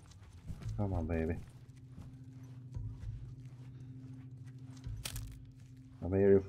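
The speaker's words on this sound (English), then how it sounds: "I'm hearing footsteps and I don't know where they're coming from." Footsteps in the video game The Last of Us Remastered tap faintly and irregularly over a low game hum, broken by short vocal bursts near the start and end.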